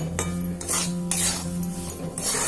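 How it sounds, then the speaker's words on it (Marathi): Roasted semolina and gram flour stirred together in a pan for besan laddoos, a spoon scraping and clinking against the metal in quick repeated strokes, close and clear with no talking. "रवा आणि बेसन आपण हे सगळं एकत्र छानपैकी मिक्स करून घ्यायचं"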